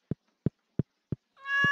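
A cat in the farming game Stardew Valley gives four short, evenly spaced meows, close and clear, followed by a rising chime-like tone.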